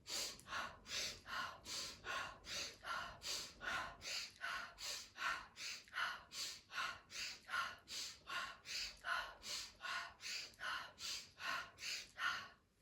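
Slow, deep breaths during a neck exercise repeat in a steady rhythm, each airy inhale and exhale close and clear, about two per second, with no talking over them.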